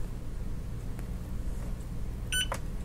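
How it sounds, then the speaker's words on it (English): A short electronic power-on beep from TOPSKY Prime 2 FPV goggles chirps near the end, clear above a steady low background hum. "Just hold that in for a bit. You should hear a beep."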